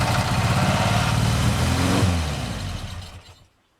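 A Frogeye Sprite engine, with its throttle wedged open, roars to life and revs hard and loud for a few seconds before dying away to silence.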